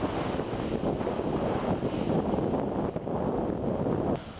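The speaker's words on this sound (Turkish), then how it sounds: "İstanbul'da sabah saatlerinde fırtına ve sağanak yağış etkisini arttırdı." Strong storm wind gusts through Istanbul on a morning of heavy rain, a loud roaring rush with buffeting on the microphone, steady and broad before easing slightly at the end.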